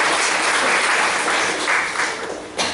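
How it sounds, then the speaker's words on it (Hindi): Church congregation clapping during a Hindi sermon, a dense steady wash of many hands filling the whole stretch, loud and close, with a brief sharper burst near the end and no talk over it. "क्यों हम ताली बजाएं प्रभु के लिए"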